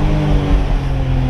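A BMW M3 E46 cabriolet with a 343 hp engine revs loudly and close, its exhaust giving a dense, sustained roar that rises and holds throughout, with no talking.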